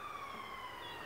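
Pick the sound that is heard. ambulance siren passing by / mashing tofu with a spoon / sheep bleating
ambulance siren passing by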